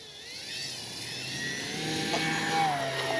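An RC Super Tucano model plane takes off from a grass field with flaps set, its electric motor whining and rising in pitch as it climbs and pulls away, heard continuously with no talk.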